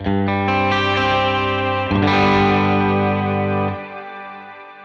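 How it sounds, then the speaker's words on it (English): An electric guitar plays through a Strymon BigSky MX, with spring reverb feeding into bloom reverb. Sustained chords ring out with a fresh strum midway, then a long, shimmering reverb tail slowly decays on its own. "That means the spring verb is enveloping the bloom after the bloom."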